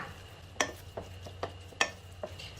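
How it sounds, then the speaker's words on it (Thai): Coconut sugar being stirred and mixed into fish curry paste for Thai steamed fish curry, giving a few soft, scattered scraping and tapping strokes against the bowl, close and quiet. "จากนั้นนะคะทำการคลุกเคล้าค่ะ"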